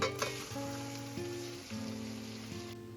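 Chicken meat fries in onion, ginger and garlic paste with a soft, steady hiss, partly masked by tonal background music.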